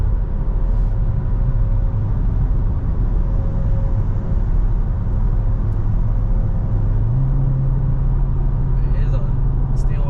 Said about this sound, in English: so you can try to hear the car